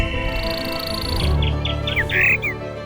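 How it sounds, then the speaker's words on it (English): Songbirds sing in a forest: after a brief lull, a run of bright, quick chirps and whistled notes rises clearly over a steady background hum, close and fairly loud. "Nature's musicians, songbirds, fill the forests with their beautiful songs."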